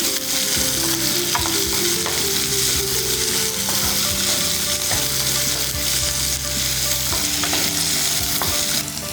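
Diced eggplant and raw mango frying in a pan for a gravy, a loud continuous sizzle with constant stirring scrapes and clinks of a spoon throughout, no talking.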